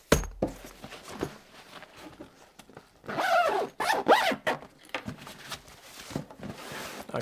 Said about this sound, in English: Now, I'll zip this back up and I'll show you around the bag,